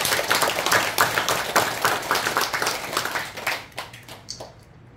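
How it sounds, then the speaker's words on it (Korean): A Buddhist temple congregation at Mireuksa claps together in a loud, close burst that thins into scattered claps and fades out over a few seconds, with no talking. "우리 큰 박수 한번 부탁드립니다."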